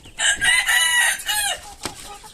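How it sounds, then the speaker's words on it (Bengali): A rooster on a native hill chicken farm crows loudly and close by in one long, strained call, followed by a few softer clucks and a brief sharp noise. "এই দেখতে পাচ্ছেন এগুলো সব আমার ওই যে আগের বেসের মুরগি, ফার্স্ট বেসের মোরগ"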